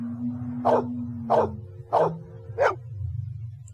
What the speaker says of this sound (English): Who's the best dog in the whole world?